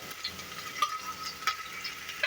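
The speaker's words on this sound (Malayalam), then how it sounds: "ഒരു മീഡിയം സവോള നമ്മൾ ഇവിടെ ചോപ്പ് ചെയ്ത് വെച്ചിട്ടുണ്ട് അപ്പോൾ അതാണ് ഇടാൻ പോകുന്നത്" Chopped onion and small pieces of ginger hitting a hot pan and frying, a steady close sizzle with a few sharp crackles and stirring scrapes, no talk.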